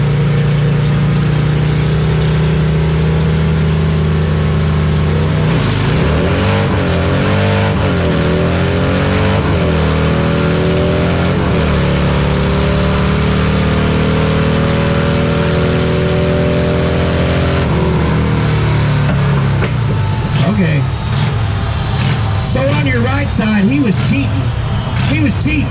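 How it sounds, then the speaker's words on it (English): A Harley-Davidson Fat Boy V-twin revving up in first gear at a drag strip, a steady loud idle rising into long climbing pulls and then dropping back, heard close with people talking over it. "you ready running in first gear?"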